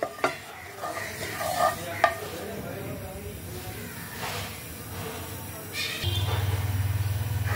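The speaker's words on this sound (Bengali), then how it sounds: "তেল আর ঘি একসাথে ভালো করে গরম করে নিতে হবে।" Oil and ghee heat in a pan in a home kitchen, with utensil clinks and stirring sounds, then a steady, louder sizzle takes over for the final seconds.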